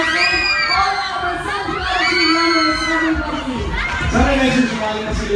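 A crowd at a birthday charity run event cheers and shouts loudly, with high-pitched whoops and children yelling over sustained applause-like noise and some talking.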